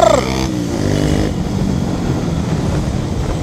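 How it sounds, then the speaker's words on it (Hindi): A Honda Activa 4G scooter overtakes a Pulsar motorcycle on the road. A passing engine tone slides downward at the start, then a steady close engine drone and wind rush carry on throughout. "so look at the Pulsar being overtaken by us"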